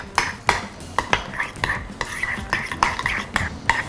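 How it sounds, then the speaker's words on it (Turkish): Rapid whisking of a sauce with salt and crushed garlic in a bowl, a close, steady run of light clinking utensil strokes against the dish with no voices. "Güzelce çırpıyorum"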